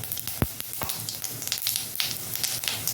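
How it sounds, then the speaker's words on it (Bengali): Whole cumin seeds sizzle in hot oil as a tempering for mung dal, a dense, steady crackle and hiss with a few sharper pops, close and fairly loud throughout. "গোটা জিরে একটু ফোড়ন দিলাম যেহেতু মুগ ডাল রান্না হচ্ছে"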